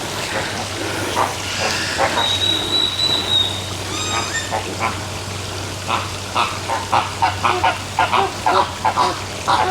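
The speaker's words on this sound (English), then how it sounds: "We've got flamingos and storks." Flamingos and storks calling at a Mexican bird sanctuary, with a waterfall and pond nearby: a run of honking, goose-like calls that grows into repeated bursts, over steady water noise and a low hum.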